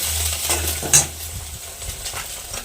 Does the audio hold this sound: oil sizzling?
yes